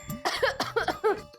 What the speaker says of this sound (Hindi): एक खांसी का दीवाना हूं।